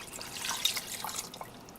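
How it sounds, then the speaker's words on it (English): Water is poured into a pot of meat for Haitian griot, heard as light splashes and drips close by, fairly faint and irregular over a couple of seconds. "Then you're going to add 2 cups of water."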